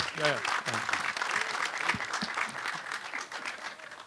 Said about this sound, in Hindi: तालियां बज गई सर, नाम लेते ही।